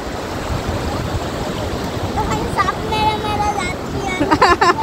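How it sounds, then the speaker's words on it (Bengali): Large waves roll in and break on a river-mouth shore, a continuous close wash of surf with surging swells, while children and adults talk and shout over it. "এই যে একটা বড় ঢেউ আসছে,"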